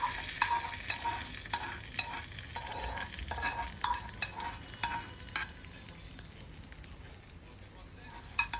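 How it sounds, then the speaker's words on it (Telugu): Tempering (popu) for ginger chutney fries in oil in a pan, with sizzling and crackling bursts and stirring scrapes, fairly quiet and close, with some voice in the background. "ఇప్పుడు ఆ గ్రైండ్ చేసి పెట్టుకున్న చట్నీని పోపు వేసుకొని పక్కన పెట్టుకోవాలి."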